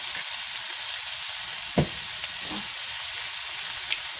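Seasoned onions fry in a pan for a cheeseburger sub, giving a steady close hiss of sizzling with a couple of soft clicks from the pan. No one talks.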